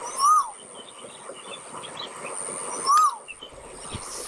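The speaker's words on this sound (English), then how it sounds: "I also have this clip of the bird chirping called the crow" A crow gives two short calls about three seconds apart, each clear and fairly close, over a soft, steady outdoor background hiss.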